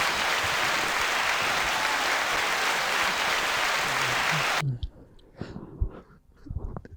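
A canned applause sound effect plays on a Halloween special podcast episode: loud, dense clapping runs for several seconds, then cuts off sharply, leaving quiet room sounds and faint voices.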